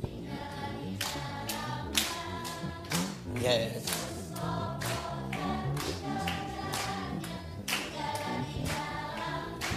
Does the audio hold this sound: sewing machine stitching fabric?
no